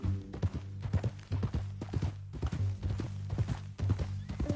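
Horse hooves clip-clop at a steady walking rhythm in Red Dead Redemption 2, close and clear over a low droning background, with no talking.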